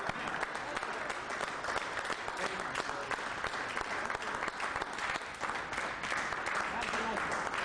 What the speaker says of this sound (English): let's have a round of applause for Bill Thornton